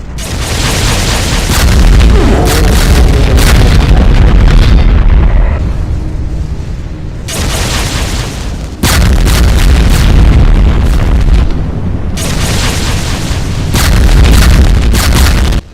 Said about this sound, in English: dual homing round BFG shots